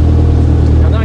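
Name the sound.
rally car overtaking, Rallye Grasse Alpin 1991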